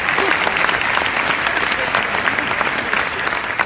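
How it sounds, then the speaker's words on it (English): A crowd at the Youth Assembly 2018 closing ceremony in New York breaks into sustained applause, loud dense clapping that rolls on evenly for several seconds. "Let's give them a round of applause."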